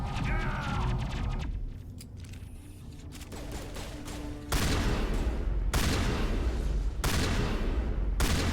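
Rapid gunfire and heavy shotgun blasts ring out in combat in the Mass Effect 1 video game, dense continuous volleys that thin out briefly, then return louder and sustained through the end.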